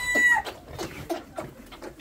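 Chickens cluck and squawk in a farmyard, with a brief rooster-like call near the start, a loud close flock of rapid overlapping calls continuing throughout without pause.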